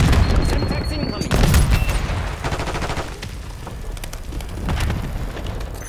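Black Ops 6 multiplayer hardpoint match with a thrown Semtex grenade, dense bursts of gunfire and booming blasts rolling throughout, loud and close, with game voice callouts mixed in.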